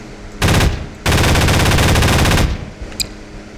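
Fighter jet cannon in Garry's Mod roaring in two loud sustained bursts, a short one and then a longer stream of rapid fire, both close and clear with nothing else over them.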